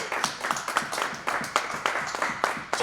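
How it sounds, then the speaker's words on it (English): A comedy club audience claps in a steady patter of close handclaps across the room, with brief voices mixed in. "Everyone clap for Justin."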